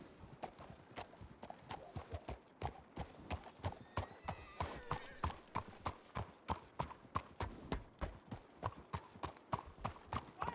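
Horse hooves clip-clop steadily in Red Dead Redemption 2, a black horse walking at an even, close rhythm with many sharp hoof strikes and a brief whinny partway through, under faint voice.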